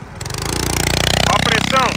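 A tricycle powered by a 100cc Honda Biz engine revs up close by, its steady buzzing drone rising and pulsing for two seconds while voices are heard over it.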